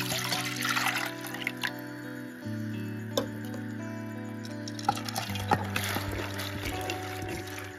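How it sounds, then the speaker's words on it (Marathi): A jugful of water is poured into a cooking pot as a continuous trickle. A ringing tone inside the vessel shifts in distinct steps as the pot fills, with faint knocks along the way and no voices. "त्यासाठी मी टोपामध्ये एक तांब्याभर एवढं पाणी घालते।"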